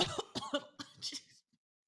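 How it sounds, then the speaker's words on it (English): A few harsh, raspy throat-clearing bursts in quick succession, close to the mic, then quiet. "Let me clear my throat."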